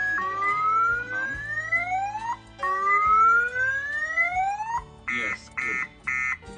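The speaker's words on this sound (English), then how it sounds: "How to trigger illegal opening door alarm." A Cardot GSM GPS car alarm, triggered by a door opened while armed, sounds a loud electronic siren with rising sweeping tones, then a series of short pulsed beeps.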